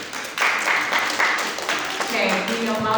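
An audience claps at a high school English debate competition, with a scattered round of applause that rises and continues over a few seconds while a host speaks.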